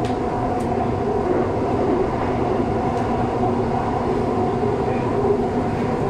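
Seoul subway metro train running with a steady, loud rumble and dense broadband roar throughout, a faint rhythmic clatter beneath and no voices.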